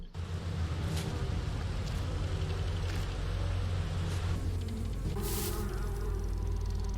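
Constant buzzing of bees in a Halloween video game, a steady droning hum that fills the whole stretch without a break, fairly loud, with a few brief higher swells over it.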